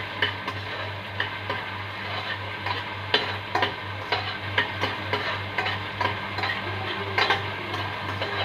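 Onions frying in a pan while being stirred, a steady sizzle under a low hum, punctuated by regular sharp clicks of a spoon against the pan, close and without speech.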